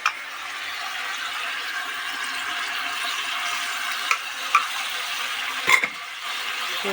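Chicken and tarka dal get stirred together in a pan, a steady soft scraping and sizzle with a few sharper clinks of the spoon against the metal, close and alone.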